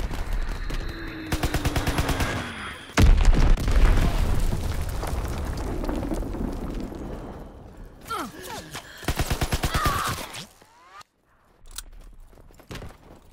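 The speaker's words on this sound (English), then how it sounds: "Enemy bomb incoming. Get to cover." Bombs burst and automatic gunfire rattles in a Call of Duty WWII multiplayer match, with a heavy blast around the middle and further bursts of rapid fire later, loud and close, mixed with game noise.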